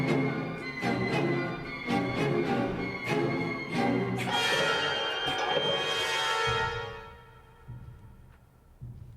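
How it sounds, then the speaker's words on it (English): Deep, slow distant bell strokes toll repeatedly within a full orchestral texture in a funeral march movement, then the sound swells and fades into a quieter, sustained low passage. "Distant bells tolling."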